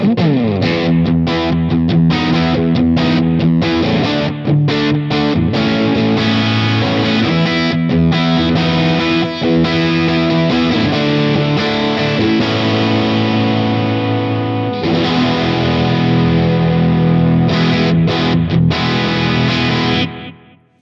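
Heavily distorted, high-gain electric guitar with a scooped, fuzzy, hairy tone through a Line 6 Helix with delay, plays sustained chords and riffs loudly and continuously, ending abruptly.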